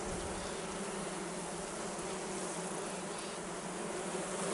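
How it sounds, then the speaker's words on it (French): A dense, unbroken hum of yellow-backed bees fills an opened Layens hive with natural comb, loud and close throughout with no other sounds. "regarde les abeilles avec les taches jaunes"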